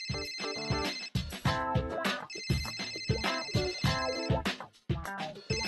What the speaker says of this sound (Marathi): एक सेकंड, मला फोन उचलून दे.